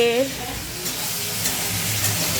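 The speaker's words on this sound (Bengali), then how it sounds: "মাছ ভাজা, এঁচুড়ের তরকারি।" Fish fries in a pan with a constant close sizzle that fills the clip, a brief tonal clink at the start, no talk.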